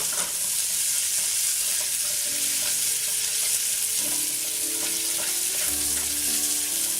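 Cornish hen browning in a hot pan, a steady loud sizzle and frying crackle running throughout with occasional faint stirring clinks, no talk.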